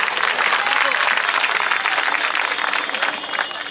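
A crowd at a political rally on a road in Mumbra claps loudly and steadily to welcome a speaker, dense continuous applause with some cheering.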